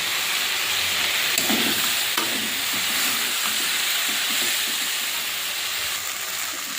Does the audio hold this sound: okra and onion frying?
yes